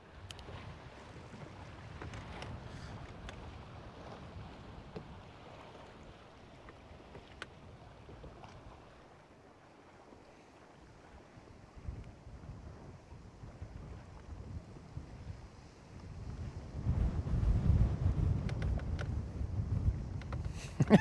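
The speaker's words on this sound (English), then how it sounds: "Okay, we got a headwind here." Wind gusts buffet a small boat out on the water, a steady rushing roar with microphone rumble that swells louder near the end; no talking.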